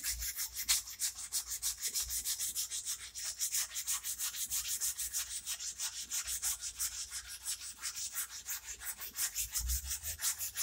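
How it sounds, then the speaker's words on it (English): Continuous hand sanding of a steel knife blade, fast even rasping strokes repeating close up without pause, no talking. "Sanding is a never-ending battle with knife finishing."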